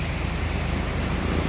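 Ocean surf from the Pacific along a Bikol coast near Joroan, a steady broadband wash with wind rumbling on the microphone, no voices.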